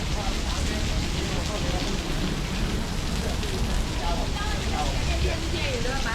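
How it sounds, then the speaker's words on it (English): Heavy, steady rain pours onto a street in Taipa Village, Macau, a dense continuous hiss of drops filling the whole stretch with no breaks, close and loud. "it's been raining for about at least an hour and a half"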